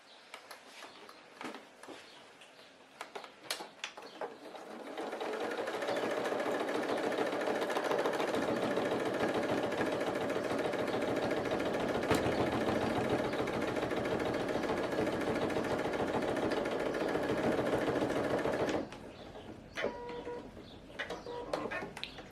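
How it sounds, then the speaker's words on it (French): A sewing machine runs a steady, even-paced stitch along a tote bag seam for about fourteen seconds, close and continuous, framed by scattered handling clicks and rustles before and after. "on va coudre ici, ici et ici à 1 cm à chaque fois"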